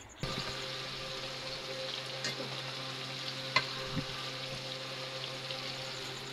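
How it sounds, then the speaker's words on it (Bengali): Fish frying in a pan, a continuous moderate sizzle and crackle of oil with a couple of brief sharp clicks from the pan or utensil, no talking. "আর কিছুক্ষণের মধ্যে মাছ ভাজা হয়ে যাবে।"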